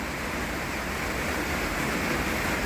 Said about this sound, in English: the noise you hear is the rain on the tin roof.